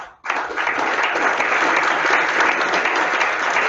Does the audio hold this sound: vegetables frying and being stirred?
no